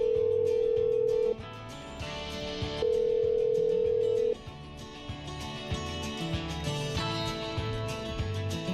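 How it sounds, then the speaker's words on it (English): A steady telephone dial tone in the video game Killer Frequency comes in two clear sustained stretches, then gives way to other tones and a busy game soundtrack, close and with no talking. "Okay, I'm dialing."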